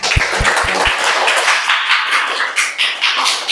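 Classroom applause for group 1, opening with a few sharp nearby claps or taps before a scattered round of students clapping, uneven and fairly loud.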